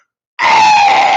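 A human voice imitates the screaming whistle of a coal-burning locomotive running on low pressure, a sudden loud, strained sustained wail held steadily after a moment of silence.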